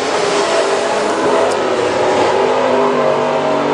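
Race cars at Princeton Speedway roar out of the fourth corner during a heat race, a loud, steady blend of engines holding near and constant for several seconds with no talk.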